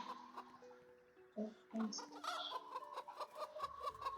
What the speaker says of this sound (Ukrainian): Це капець, чого курки літають, вони не вміють літати.